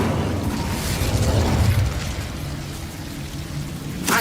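A burst of magical fire from the Incendio spell in Hogwarts Legacy, a whooshing, crackling blast that swells and then fades over a few seconds.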